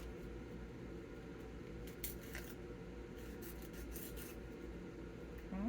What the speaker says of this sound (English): And then give it a little bit of sanding.